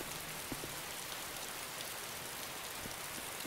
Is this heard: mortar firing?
no